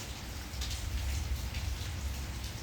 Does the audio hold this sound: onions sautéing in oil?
no